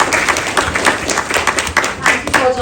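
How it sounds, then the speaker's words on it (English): Audience at an event applauding a circuit court judge, a near burst of clapping with uneven rhythm and a voice briefly over it. "Let's have a huge round of applause for him."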